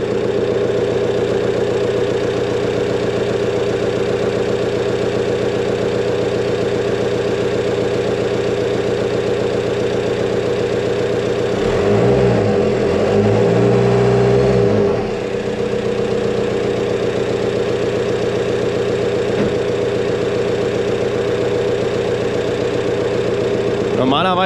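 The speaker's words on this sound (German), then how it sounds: "Es hat jetzt gerade Klick gemacht, der Kompressor läuft mit. Wir sehen aber, dass sich die Druckverhältnisse hier marginal ändern. Ich gebe jetzt gleich nochmal ein kleines bisschen Gas." A VW Golf IV GTI TDI diesel idles steadily and close with the AC compressor running, then revs briefly in a short throttle blip about halfway through before settling back to idle.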